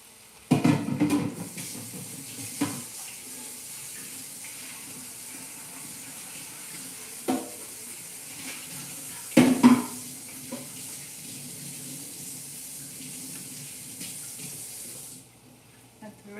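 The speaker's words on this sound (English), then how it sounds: "I have to rinse my hands." Hands are rinsed under a running kitchen tap, a steady hiss of water falling into the sink with a few louder splashes and clunks, before the flow is shut off near the end.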